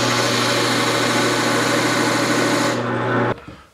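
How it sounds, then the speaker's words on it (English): A walnut box body with a herringbone pattern is sawn apart from its lid on a bandsaw. A loud, steady whining drone holds close for about three seconds, then cuts off abruptly as the cut ends. "I'm just going to go ahead and separate them at the bandsaw."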